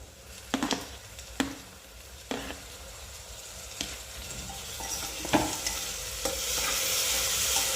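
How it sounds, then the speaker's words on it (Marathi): Tomatoes added to golden-brown fried onions in a pan, a soft steady sizzle with several sharp scraping and clacking stir strokes, growing louder toward the end. "आता आपण हे टोमॅटो टाकून घेऊया त्याच्यामध्ये."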